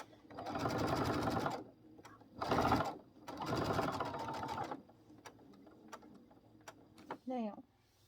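A sewing machine stitches an egg-gathering apron in several bursts, a close rapid whirring that starts and stops, with brief pauses and a few clicks of handling between runs.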